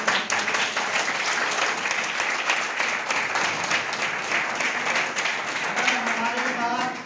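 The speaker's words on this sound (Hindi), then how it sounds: "एक बार जोरदार तालियां।" Sustained applause from an audience at a business plan presentation, dense crowd clapping throughout with a voice speaking over it near the end.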